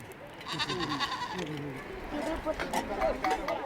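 A goat bleats during a village ritual in Langtang Valley while it is sprinkled with water, with short, wavering calls set against a steady murmur of people and outdoor background noise.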